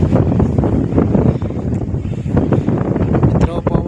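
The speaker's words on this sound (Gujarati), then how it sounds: "મિત્રો, પવન પણ ઘણો છે," Strong wind gusts buffet the microphone at a hilltop temple in Gujarat, with loud, continuous rough blustering that swells and eases over a few seconds.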